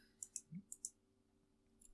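Computer mouse clicks in quick succession, five sharp taps close together followed by quiet, with one faint click near the end.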